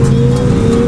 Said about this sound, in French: tu te fais dépasser à droite, à gauche par des motos en roue arrière